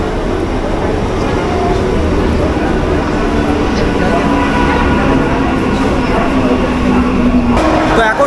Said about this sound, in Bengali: তো এখন সোদপুর স্টেশনের 1 নম্বর প্ল্যাটফর্মে ঢুকলো শান্তিপুর লোকাল।